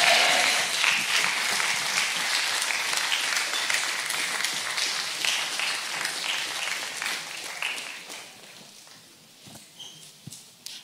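A church congregation claps and acclaims the Lord during a French-language sermon, a full burst of applause that gradually thins into scattered claps and fades toward the end.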